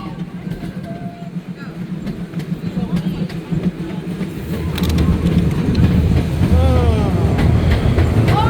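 Miniature zoo ride train at the Memphis Zoo rolls along its rails with a rumbling drone and rhythmic clickety-clack that grows louder, as riders chatter and children call out.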